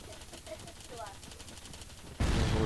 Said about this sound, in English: I think it's better to terrorize my teammates just by shooting constantly.